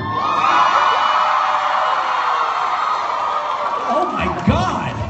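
A huge convention crowd of thousands fills a large room with sustained cheering and whooping, loud and steady throughout, with a few sharper shouts rising near the end.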